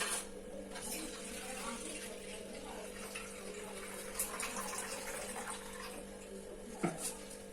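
Soaked cashews are drained, with a soft, steady trickle and slosh of water running off them, faint and close by, punctuated by a few small clinks and splashes.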